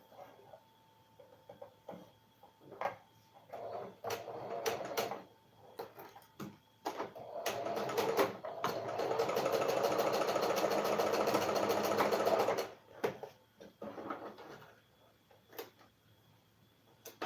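A sewing machine stitches a tote bag, with scattered handling clicks and short starts before one steady, close run of several seconds that then stops abruptly and gives way to more light handling.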